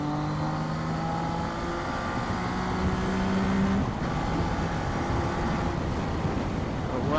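Zontes 703F triple-cylinder motorcycle engine running steadily at high highway speed in sport mode, a sustained loud drone with shifting harmonic tones as it downshifts, mixed with heavy wind rush and a voice talking over it.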